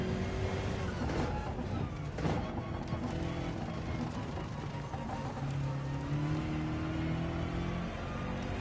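A high-performance car engine in a racing video game hums and drones steadily, shifting pitch as it accelerates, moderately loud under a busy background of other game sound.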